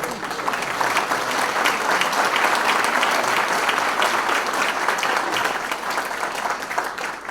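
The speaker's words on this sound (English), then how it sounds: "please give me a round of applause" An audience bursts into sustained, dense applause at a community talk as a mayor is introduced, steady and loud for about seven seconds without letting up.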